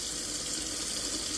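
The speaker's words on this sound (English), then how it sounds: "as the water works its way out and cooler water comes through" Water runs from the tap of an RV with a tankless water heater, a steady close rushing flow with no break across the short stretch.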